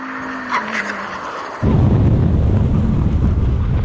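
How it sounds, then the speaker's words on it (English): Lamborghini Huracan STO and Aventador SVJ braking hard to a full emergency stop from 100 mph, a rising engine note giving way abruptly to a loud, sustained rush of tire and road noise. "Now we're going to have a brake test from 100 miles an hour. When we reach the line, full emergency stop."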